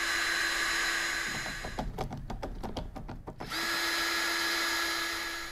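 A power drill drives screws into scrape armor on an Acura NSX, giving a steady, close motor whine that breaks into a rapid stuttering chatter midway before the smooth whir resumes.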